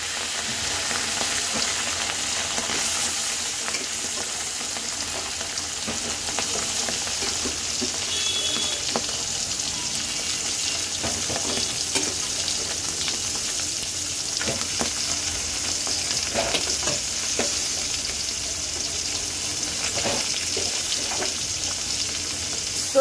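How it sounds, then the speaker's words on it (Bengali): Khalisa fish frying in smoking-hot oil in a karahi, a dense, steady crackling sizzle that runs unbroken throughout, close and fairly loud. "মাছটা ভাজার জন্য কড়াইতে তেল গরম করতে বসিয়ে দিয়েছিলাম, ধোয়া উঠছে। এখন আমি মাছগুলো দিয়ে দেবো।"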